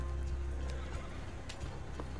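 A horse in Red Dead Redemption 2 Online gives a whinny over clip-clopping hooves, faint and distant under a steady low background rumble.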